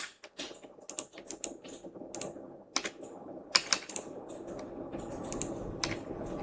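Computer keyboard keys are pressed in scattered taps and quick bursts, soft and close, with a few sharper clicks, while someone works in animation software.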